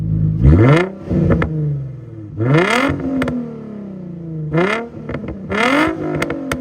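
Nissan 350Z engine revving loudly and close by in four quick bursts, each rising in pitch and then falling back to a rough idle.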